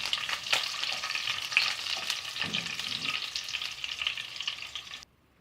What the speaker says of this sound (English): finally I'm adding curry leaves. Just saute for a few seconds.